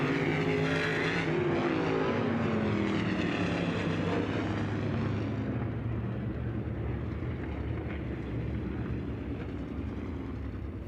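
Dirt race cars at Las Vegas Motor Speedway roar up to speed during a hot lap session, a loud, continuous engine drone with rising and falling pitch sweeps as the pack passes, dense and unbroken throughout.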